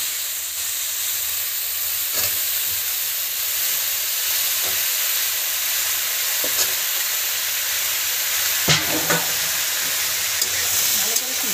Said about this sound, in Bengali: এই যে আলু আর বেগুন কেটে রেখেছি, এই এখন দিলাম তেলের মধ্যে।